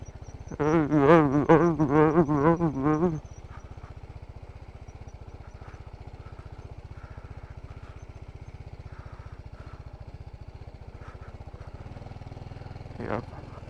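A sports motorbike engine runs as a steady low drone throughout the ride, with a voice sounding loudly over it for the first few seconds, then the engine continuing alone at an even level.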